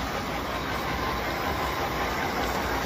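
A 3D-printed model train engine runs at half power pulling seven cars, producing a steady, even mechanical whir and rumble up close with no speech over it.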